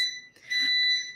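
A kitchen alarm gives two short electronic beeps, a sharp brief chirp then a longer steady tone, close by while food cooks.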